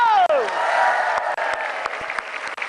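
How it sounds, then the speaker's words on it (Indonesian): Audience applause with scattered cheers and whoops, a voice calling out at the start before the clapping fills the room. "tepuk tangan sekali lagi,"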